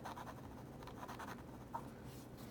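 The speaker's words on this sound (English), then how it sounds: "You probably hear it as it writes." A Cross Click pen scratches faintly on paper in short, close strokes, with a slightly scratchy, rhythmic texture.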